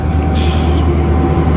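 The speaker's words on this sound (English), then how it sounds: "7:30 p.m. and the train has come." A Mauritanian train rumbles up at evening, a loud low continuous drone with a sharp hiss of air brakes releasing partway through, heard close with no talking.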